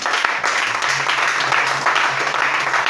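A church congregation at a French-language worship service claps in praise: dense, continuous applause with a few sharper claps standing out, fairly loud and close, with no speech over it.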